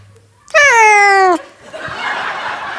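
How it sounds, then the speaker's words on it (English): A cat lets out one loud, drawn-out meow lasting close to a second, followed by murmuring crowd noise at a live show in a brewery. "Floki wants to be an outdoor free roaming cat, Mel."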